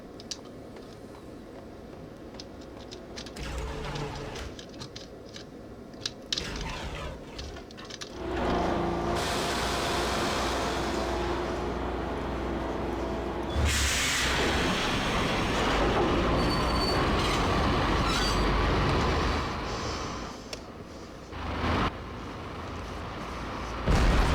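Train running in the Max Payne video game, a heavy rumbling roll with grinding, squealing wheels on rails, building louder midway and continuing steadily, with no voices.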